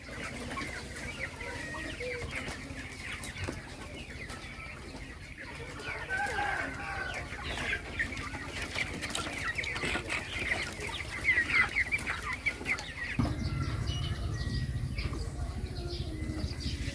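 Chickens on a village poultry farm cluck and call in a steady, busy chorus throughout, with a louder low rumble of background noise joining near the end.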